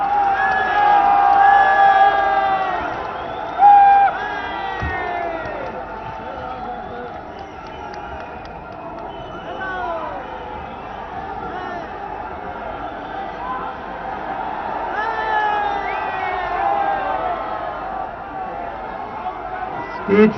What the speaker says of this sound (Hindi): जोरदार तालियों से सब साथी स्वागत करेंगे माननीय राहुल गांधी जी का।